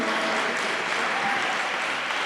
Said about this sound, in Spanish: Un aplauso para nuestro expositor.